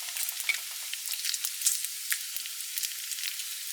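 Bacon frying in a small non-stick frying pan with plenty of fat, giving a steady close crackle and sizzle with scattered sharp pops and no voices.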